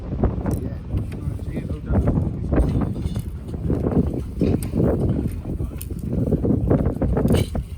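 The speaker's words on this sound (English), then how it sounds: "It's getting windy now." Gusty wind buffets the microphone at an outdoor flea market on a windy Thanksgiving Day, with rumbling bursts and shifting noise throughout and no clear speech.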